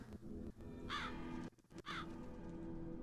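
A human voice imitates a crow's caw, giving two harsh, nasal calls about a second apart, close and clear over a quiet room tone.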